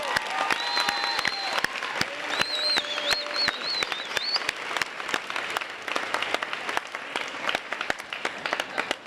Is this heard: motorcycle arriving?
no